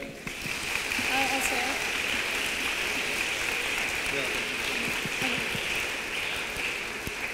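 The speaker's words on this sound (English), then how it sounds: "Let us hear a huge round of applause for him." Students in a school lecture hall applaud steadily after a talk by former Indian cricketer Chandu Borde, a dense, even clatter lasting several seconds, with voices faintly audible under the clapping.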